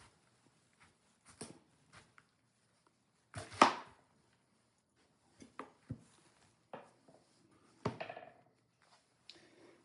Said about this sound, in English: So let's cut the cabbage